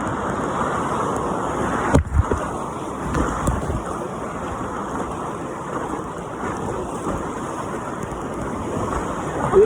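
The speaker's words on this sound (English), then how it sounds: "Big waves." Big ocean waves crash and churn in a loud, continuous wash of surf noise, with a sharp impact thump early on and a rough, rolling rumble beneath.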